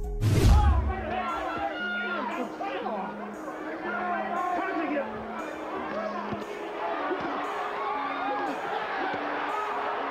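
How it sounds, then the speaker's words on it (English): A large boxing crowd roars and cheers loudly at the start, then keeps up a busy hubbub while someone talks over the noise. "Crowd erupting, think good shot"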